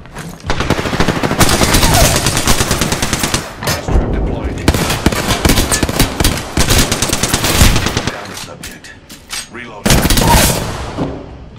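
Automatic weapons rattle in rapid, loud bursts during an Apex Legends match, with dense sustained gunfire broken by short pauses and a final burst near the end, and faint game voice lines underneath.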